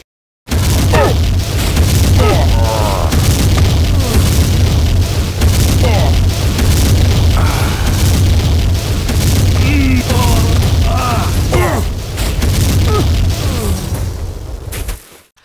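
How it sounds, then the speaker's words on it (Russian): A command center blows up in the video game Jagged Alliance 2, a loud, continuous roar of booms, bursts and crackling debris lasting many seconds before cutting off abruptly. "но взрывается весь командный центр"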